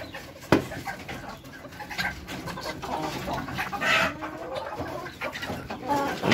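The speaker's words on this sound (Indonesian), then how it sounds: "Ini koleksi-koleksi ayam-ayam petarung juga ada, ayam hias" Fighting and ornamental chickens, including nakadori, kapas, kokin and pelung breeds, cluck and call continuously from a nearby collection, with one sharp louder call early on and overlapping bird noise throughout.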